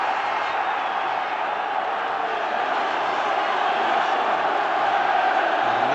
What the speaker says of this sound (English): up goes the roar from the Kop